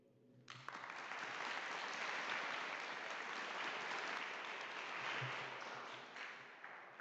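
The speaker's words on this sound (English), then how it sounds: "this is an applause for you, Shane." Steady applause from a group thanking a guest after an amateur-radio school contact with the space station, starting abruptly and holding at an even level for several seconds before easing slightly.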